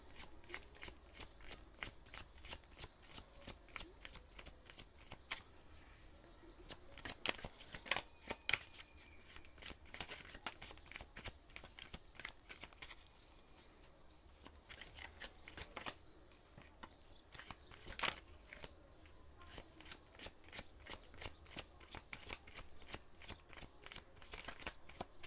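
Tarot cards are shuffled by hand in rapid, continuous riffling bursts, crisp and close, with brief pauses and a few louder flurries.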